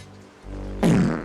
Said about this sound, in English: I'll blow a bottom burp.